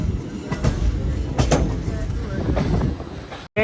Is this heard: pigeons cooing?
no